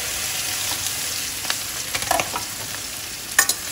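Okra sizzles loudly in hot oil with asafoetida while a spatula stirs and scrapes the pan in a few quick strokes.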